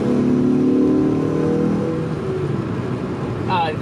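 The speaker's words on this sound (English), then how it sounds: "I'll do a little third gear pull." A lowered 2000 Honda Civic Si pulls hard in third gear, the engine note rising steadily in pitch and holding loud and close before easing off, with a brief chirp near the end.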